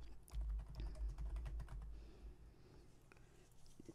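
Keys clatter on a computer keyboard while a query is entered in a Microsoft Access database exercise. Quick, dense keystrokes for about two seconds thin out into a few scattered, quieter taps.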